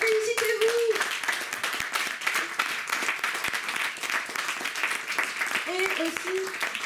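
Audience applause at a comics festival forum in Perros-Guirec, steady clapping from a crowd sustained throughout, with a voice speaking briefly over it at the start and again near the end.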